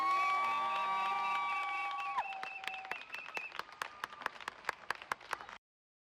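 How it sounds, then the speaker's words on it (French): Audience applause on a Beninese morning TV show. A sustained musical chord fades out, then clearly separated claps follow one another in a loose, steady rhythm before stopping abruptly. "On l'applaudit très très fort, s'il vous plaît"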